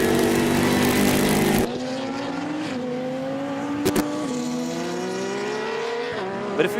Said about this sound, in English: It's Julius Bernhard overtaking him in the HP Racing's Lamborghini Huracan